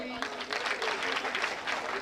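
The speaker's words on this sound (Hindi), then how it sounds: "ठोको ताली" Audience clapping at a Hindi kavi sammelan poetry gathering, a dense crackle of hands spread across the two seconds, moderately loud, with a voice speaking faintly under it.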